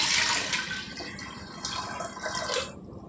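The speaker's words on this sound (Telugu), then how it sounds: "పప్పు ఉడకడానికి మనం తగినన్ని నీళ్ళు వేసుకుందాం" Water pours into a pot of dal being cooked with raw mango, a steady splashing gush that starts loud and gradually tapers off, with no talk.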